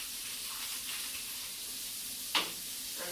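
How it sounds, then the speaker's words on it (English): Celery and onions cooking in a pan, seasoned with salt and pepper, give a steady soft sizzle, with one brief louder crackle near the end. "we're going to cook the celery and the onions"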